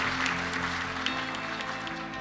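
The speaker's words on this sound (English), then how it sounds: "Give an applause to ASG, it was their idea" Crowd applause at a college climate action summit, a brief burst of clapping from an audience, dense and steady, with a low musical hum running underneath.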